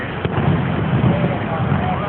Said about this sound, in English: The fireworks is enough.